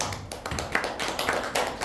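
Audience clapping at a formal general assembly in honor of an honorary president, a short burst of sharp, uneven hand claps, fairly close and moderately loud.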